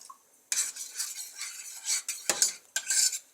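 A spoon stirs flour into hot water in a bowl, scraping and clinking against the sides in quick irregular strokes, close and fairly loud, with no voices.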